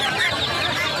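Chickens, including Tiger hens, cluck and chatter in dense overlapping bursts at a busy weekly poultry market in Sirajdikhan, Munshiganj, with the market's bustle close around them.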